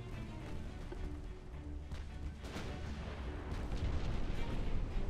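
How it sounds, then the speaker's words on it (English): Naval gunfire in the video game Ultimate Admiral Dreadnoughts, faint distant booms of heavy guns thudding over a low rumbling battle background, growing slightly louder toward the end. "We can probably start firing on him right now"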